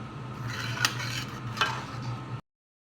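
A spoon scraping and stirring carrot halwa with dry fruits in a pan, a steady soft scraping texture over a low cooking hum, with two sharper clinks against the pan before it cuts off.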